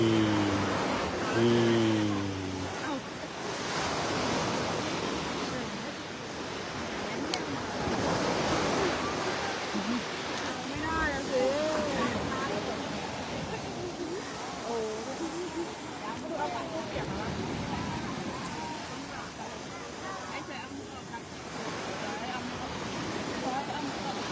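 Sea waves wash onto a beach in a steady, rushing wash of surf with some wind, while an adult and someone talk close by over it.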